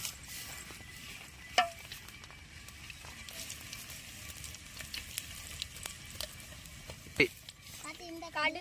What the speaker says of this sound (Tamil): கடுகு கொண்டு வந்து போடுறோம் கடுகு போட்டுக்கலாம்